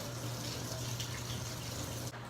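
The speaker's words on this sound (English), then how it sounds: "now I'm going to rinse." Tap water runs steadily as hands are rinsed at a sink, a close, continuous hissing splash that briefly drops off near the end.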